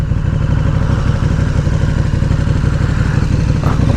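A KTM Super Duke motorcycle engine runs loud and close, a continuous rumbling drone with a rattling edge as the bike is ridden.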